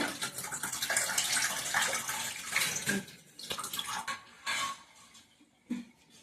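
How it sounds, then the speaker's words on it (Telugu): Urad dal (black gram) and rice rinsed in water by hand before grinding into dosa batter, with splashing and swishing in bursts that grow sparser and quieter toward the end, close up and without talk. "ఈ వాటర్ చేసి మళ్ళా ఒకసారి కడిగేసి వేస్తానండి"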